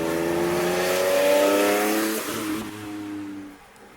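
A naturally aspirated S54 engine in a 1993 BMW E30 Touring with a bespoke carbon airbox revs hard, rising to a loud, rich intake howl that then falls away as the throttle closes, close and without talk.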